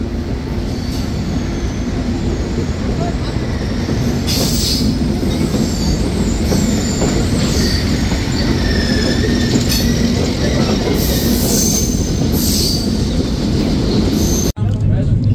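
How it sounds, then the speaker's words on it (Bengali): Benapole Express passenger train running at about 50 km/h between Jhikargacha and Jashore Junction, heard from on board as a loud, continuous rumble with wheel squeals and rail clatter before a sudden cut near the end. "মানে মোটামুটি 50-এ ট্রেনটি ছুটে চলেছে যশোর জংশনের পথে।"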